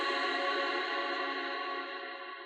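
A sustained, shimmering tone from a reverb plugin set to endless decay hangs with a long smooth tail, fading very slowly without stopping, like a wash of effected reverb.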